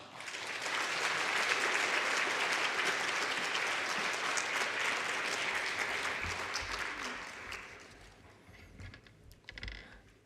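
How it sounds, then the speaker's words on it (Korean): Loud church congregation applause welcoming a pastor at a Wednesday evening service, sustained for several seconds, then fading into scattered claps and a few low thumps. "박수로 환영하겠습니다"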